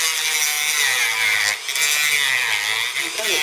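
A grinder runs steadily against the lip near the piston of a 1966 rototiller engine, a loud, continuous high-pitched abrasive whine with a brief dip in the middle and slight pitch wavers as the tool presses on the metal.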